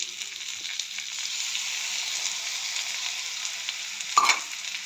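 Coriander leaf paste with onion and garlic paste, salt and turmeric fried in a pan, a steady close hiss of frying with one brief scraping clatter near the end.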